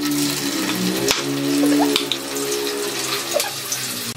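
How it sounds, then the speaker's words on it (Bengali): Paneer pieces fry in hot ghee with a steady, close sizzle and crackle that runs the whole time at an even level, with no talking. "ঘিটা গরম হয়ে গেছে, এবার পনিরটা আমি এর মধ্যে দিয়ে দিই।"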